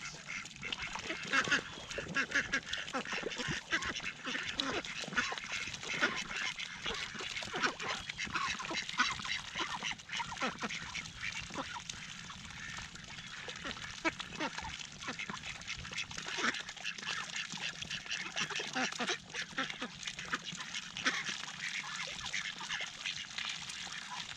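Homestead ducks quack steadily for a long stretch, a dense chorus of overlapping calls with close, fairly loud bursts over outdoor background noise, joined by occasional honking.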